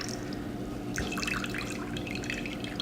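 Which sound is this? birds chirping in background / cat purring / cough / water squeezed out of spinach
water squeezed out of spinach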